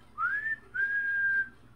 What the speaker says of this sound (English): I just... I want to whistle too.